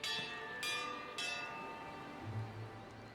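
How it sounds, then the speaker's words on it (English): A large bell tolls in the fantasy role-playing game Pillars of Eternity 2, struck about three times in slow succession, each clang leaving a long ringing decay under a soft low rumble. "Who's rung the bell and why?"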